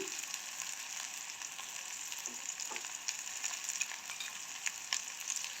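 Onions sautéing in a pan with mustard seeds for a soya meat curry, a soft steady sizzle with small crackles and pops scattered through, fairly faint and close.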